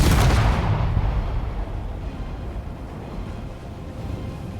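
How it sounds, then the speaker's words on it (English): A warhead-filled box detonates in the Space Engineers game: one sharp, loud boom at the start that rolls off into a long, fading rumble with no talking. "The entire box explodes."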